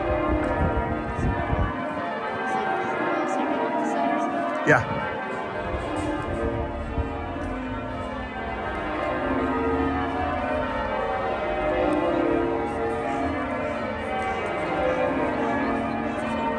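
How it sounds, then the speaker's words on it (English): Church bells peal in York's old town, a dense continuous wash of overlapping tolls that fills the whole stretch, with a brief voice and street ambience under it. "Listen to the bells."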